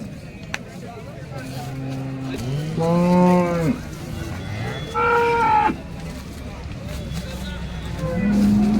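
Cattle moo loudly at a cow market in Sangola, with two drawn-out lowing calls close by over a steady murmur of crowd noise and distant engines.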